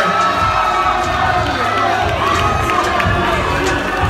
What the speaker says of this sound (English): Give it a round of applause for Theo Coates from Detroit, Michigan, out of the blue corner.